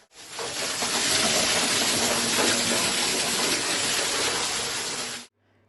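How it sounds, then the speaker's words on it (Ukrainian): Water gushes forcefully like a fountain inside a flooded city apartment after a heavy downpour, a loud continuous rushing spray that stops abruptly near the end. "в одній з квартир у центрі міста утворився справжній фонтан"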